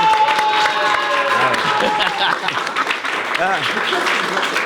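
Audience applause greeting a guest on a French political talk show, steady dense clapping with some cheering, filling the room while voices carry over it.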